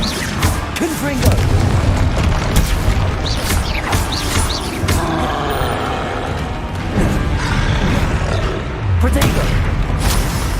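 Confringo blasting-spell explosions in the video game Hogwarts Legacy, with repeated booming bursts and crashes layered over continuous loud combat noise and chirpy spell effects, while voices are heard throughout.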